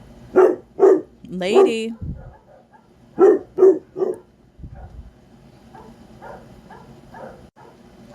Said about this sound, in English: They're still kind of barking.